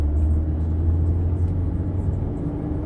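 A car driving onto the Gateway motorway in Brisbane produces a steady, low engine rumble and road noise heard from inside the cabin, with no voices.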